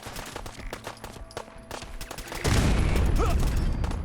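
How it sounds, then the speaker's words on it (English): Gunfire in a video game shootout with raiders: scattered shots under busy game audio, then a heavy, loud burst of sustained firing or a blast for the last second and a half. "Really, you're shooting me from way down there?"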